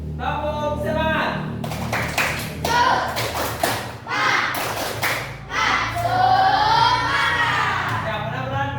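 A classroom of children performs a rhythmic group clap, with bursts of sharp claps in patterned sequences between loud chanting voices, close and lively.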